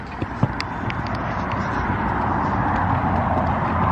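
An agitated horse in a barn, stomping and shuffling its hooves with a few sharp knocks early on, heard amid steady noisy background rumble.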